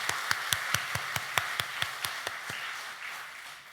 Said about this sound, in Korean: 우리 가브리엘 찬양대회 다시 한번 귀한 박수 보내드리겠습니다